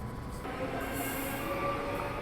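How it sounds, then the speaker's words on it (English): A Transperth B-series electric train runs express from Showgrounds toward Perth, its steady rumble and wheel noise filling the carriage with a faint high squeal, heard from on board without talk. "This train runs Express from Showgrounds to Perth"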